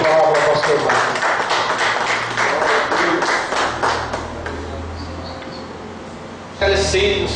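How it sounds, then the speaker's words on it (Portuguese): A church congregation clapping, a sparse patter of hands mixed under ongoing speech, easing off partway before a brief burst of clapping returns at the end. "Você pode aplaudir ao Senhor?"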